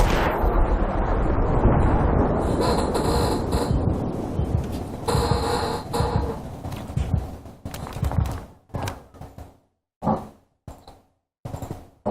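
A grenade explosion in Battlefield: a long, loud roaring blast with rumbling debris that gradually breaks into scattered sharp impacts and pops before fading.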